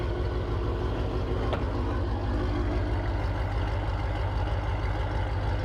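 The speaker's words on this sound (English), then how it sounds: "Listen to this V8 rumble right here." The V8 of a Dodge Challenger ScatPack idles with a deep, steady, low rumble heard close up and continuous throughout, with no talking.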